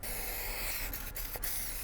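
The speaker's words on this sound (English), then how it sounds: "I'm gonna use my other clutch item, which is my baking spray." Baking spray hisses from a can into an 8-inch cake pan, a continuous, fairly close aerosol spray with a couple of brief breaks near the end.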